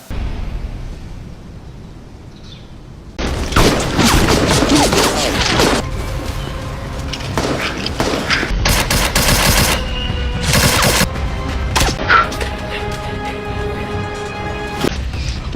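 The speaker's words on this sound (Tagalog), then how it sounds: "Biglang may narinig silang putok sa kanilang likuran." Loud bursts of gunfire, scattered shots followed by rapid volleys and crashing impacts, fill the scene as a dramatic sound effect, with no voices present.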